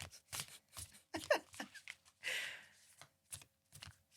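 A deck of cards is shuffled briefly up close, with soft riffling flutters and light taps in a few quick bursts.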